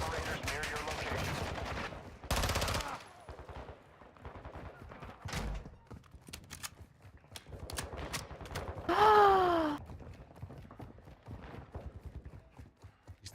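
Enemy shotgun fire in the video game DMZ, with loud, bursty gunshot blasts and clatter scattered through the clip, along with a gasp-like vocal and game effects.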